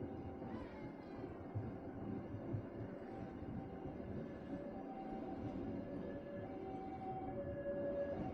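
A Siantar Ekspress train pulls out of Dolok Malangir station, heard from on board as a steady low rumble and rolling clatter of the carriages, with faint tonal whines drifting over the noise.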